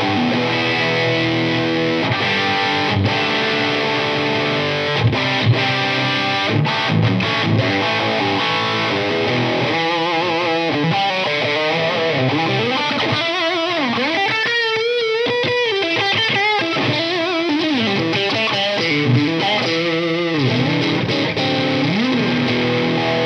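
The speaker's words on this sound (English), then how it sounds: "Let's get some more tones out of the Jason Richardson signature Sterling by Music Man guitar." A Sterling by Music Man Jason Richardson signature electric guitar plays heavily distorted, sustained chords and bending lead lines, loud and continuous with no talking.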